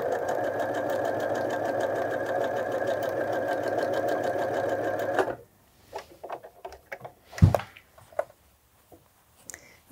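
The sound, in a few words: sewing machine stitching around a collar facing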